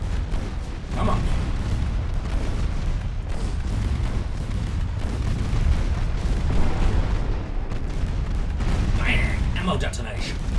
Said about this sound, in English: Bang! Ammo detonation.